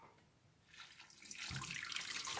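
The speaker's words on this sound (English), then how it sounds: "I'm going to pour the syrup through there just to strain any of the debris" Hot maple syrup, boiled down over an open fire, pours through a strainer to catch fire debris, a steady liquid stream that grows louder and fuller midway and keeps running alone.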